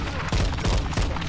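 Rapid gunfire in a Call of Duty: Modern Warfare 2 (2022) firefight, several loud close bursts of shots cracking in quick succession over a dense battle din.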